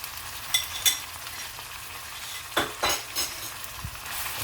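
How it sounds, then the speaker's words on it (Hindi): Golden fried onions with garlic and ginger paste sizzling in a pan, a soft continuous fry broken by a few clattering stirs and scrapes of a spoon against the pot. "ये हमारा प्याज गोल्डन हो चुका है। अब मैं इसमें 1 टेबलस्पून गार्लिक है, 1 टेबलस्पून जिंजर पेस्ट में इसमें शामिल करूँगा।"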